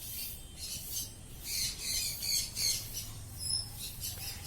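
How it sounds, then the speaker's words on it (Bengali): A flock of cockatiels at a bird market gives repeated raspy, scratchy squawks and chatter. The calls are faint and come in short bursts over low steady background noise. "এবারে এক ঝাঁক ককটেল পাখি দেখতে পাচ্ছেন এখানে"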